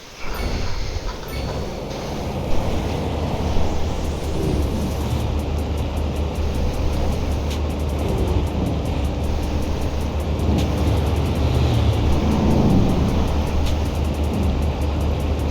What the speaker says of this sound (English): It makes noise. It's electric bus.